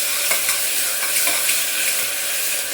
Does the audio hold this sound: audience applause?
no